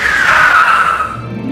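A car skids to a halt with a sustained tire squeal that slides slowly downward in pitch, loud and close, then fades into a low rumble.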